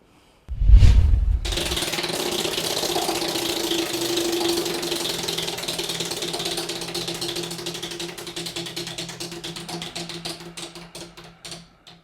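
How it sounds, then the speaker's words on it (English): Game show prize wheel clacking fast as it spins after a thump, the ticks slowly spacing out and slowing, alone and close, before it stops. "Spin that wheel."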